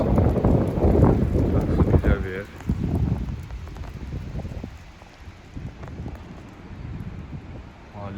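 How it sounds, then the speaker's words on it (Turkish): Strong gusts buffet the microphone on an American residential street with loud, rumbling wind noise that eases somewhat over time, with faint rustling underneath. "Çok acayip de rüzgar esiyor"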